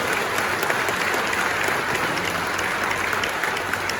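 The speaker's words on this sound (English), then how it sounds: "Yeah, that one deserves a clap," Steady, dense applause from an audience at a space-game science announcement, filling about four seconds at an even, loud level without pause.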